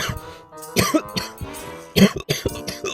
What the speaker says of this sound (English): Oh, I coughed.